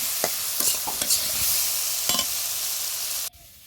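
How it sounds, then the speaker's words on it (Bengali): Vegetable curry with turmeric and chili cooks in a pan, a constant bright sizzle punctuated by a few sharp spoon clinks and stirring scrapes, then cutting off abruptly near the end; no speech. "সবজি দিয়ে তরকারি সকালবেলা রান্না হচ্ছে"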